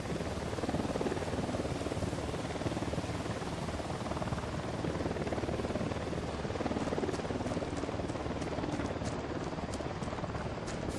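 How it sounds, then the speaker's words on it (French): Unidad helicopter approaching in the video game Ghost Recon Wildlands, a steady dense rotor drone holding loud and constant throughout with no talk over it. "Hélico de l'Unidad en approche."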